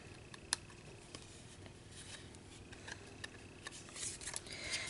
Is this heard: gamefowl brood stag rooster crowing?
no